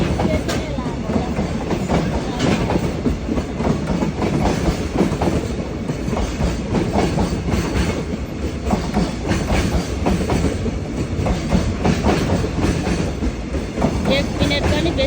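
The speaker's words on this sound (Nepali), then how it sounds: "यो ट्रेन यति लामो रहेछ कि हेर्नु त गयो" A long freight train in Japan rolls through a station, a loud, continuous rumble with rhythmic clickety-clack of wheels on rail joints that holds steady the whole time, close by.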